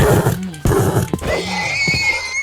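Horse neighs in Minecraft as it is killed, a loud, close whinny rising and falling over about two seconds with brief game hit sounds mixed in.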